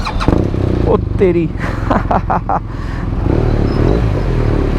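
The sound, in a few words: BMW R1200R motorcycle engine starting and revving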